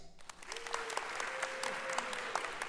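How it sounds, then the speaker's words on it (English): A live-event audience in Baldwin Park applauds on cue, a soft, even wash of many hands clapping that sounds distant and faint, with a faint tonal hum running beneath it. "Clap if this is the first time you're attending a KPCC event."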